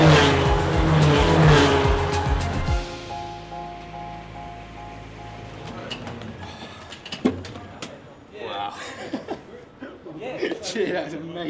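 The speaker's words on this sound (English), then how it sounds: "It really is a child's dream to be sat in a single-seater Formula car racing around a track." An F4 single-seater formula race car at Brands Hatch roars loudly at close range, its engine note falling away after a few seconds; excited talk and laughter follow over fainter background noise.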